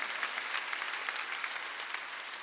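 A church congregation claps steadily during a Sunday worship service, a dense, even wash of applause heard at a moderate distance with no voices over it.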